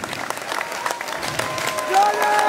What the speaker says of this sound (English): give yourselves some fucking applause